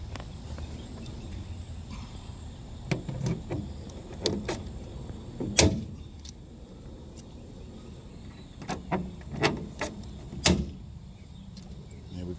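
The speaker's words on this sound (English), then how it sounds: "So we got the two plastic rivets in." Plastic rivets snap into place on a Dodge Ram 1500 rear bumper step pad, a few sharp clicks and pops spread over the clip against quiet background noise.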